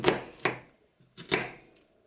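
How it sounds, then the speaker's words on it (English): A knife chops an onion into big chunks on a board, giving four crisp thuds in two pairs, close and clear with near silence between them. "I'm going to leave the onion in bigger chunks than I would normally cut for myself"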